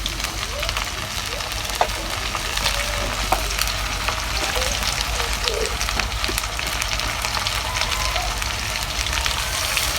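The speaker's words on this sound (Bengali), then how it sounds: "এখন আমি সুন্দর করে একটু মশলাগুলো নেড়ে নিব।" Spices and garlic paste stir-frying in a pan with a steady, continuous sizzle and occasional scrapes of stirring, close and even throughout, with no talking.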